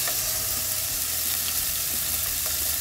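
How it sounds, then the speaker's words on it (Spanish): Pork chops fry in hot oil in a pan, giving a loud, dense, continuous sizzle with a low bubbling rumble underneath and no voices. "en una cacerola con aceite,"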